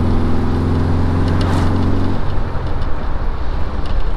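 A VW bus drives along a road, its engine note dropping as it downshifts partway through; the vehicle sound is loud and steady with no talk.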